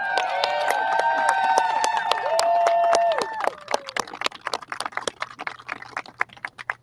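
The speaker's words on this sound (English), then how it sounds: "Can we get one more round of applause for Representative Al Green?" A crowd claps and applauds for Representative Al Green at a free speech event, starting as dense sustained clapping under a held tone, then thinning to scattered individual claps.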